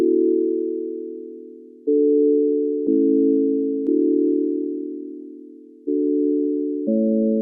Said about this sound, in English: I recreated this really simple patch in Serum using just a sine wave with a little bit of unison.